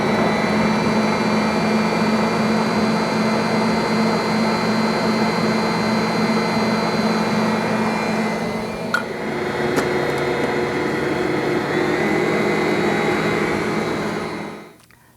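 An electric mixer creaming butter and sugar for an orange fruit cake runs with a steady, loud whirring motor hum and faint beater chatter, stays even for about fourteen seconds with a brief click midway, then winds down at the end.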